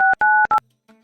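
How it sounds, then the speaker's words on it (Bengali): A telephone keypad sounds three quick, loud dialing beeps in close succession, followed after a short pause by a fainter, lower tone. "ফোন করে দিচ্ছি।"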